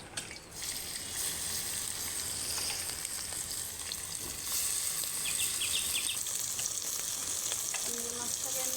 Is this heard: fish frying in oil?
yes